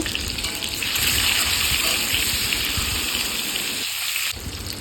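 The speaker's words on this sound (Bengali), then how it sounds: "ডিমগুলো এখন ভালো করে ফ্রাই করে নেব।" Eggs frying in hot mustard oil in a wok, a loud, close, continuous crackling sizzle that holds steady and then eases slightly near the end, with no talking.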